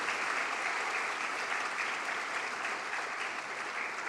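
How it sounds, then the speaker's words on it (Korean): Church congregation applauding at a Christmas thanksgiving service, a steady, dense wash of clapping from many hands filling the room without pause. "우리 박수로 한번 격려하도록 하겠습니다"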